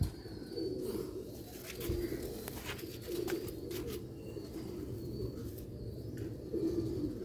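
A Sialkoti pigeon coos. Soft, low coos repeat at intervals over a steady background hum, with occasional faint clicks and no talking.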